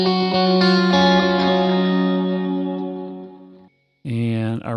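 Electric guitar through a Line 6 Helix AC30 preset with stereo quarter and dotted-eighth note delays: a sustained, chorused chord that decays over a few seconds, then a fresh bright strum.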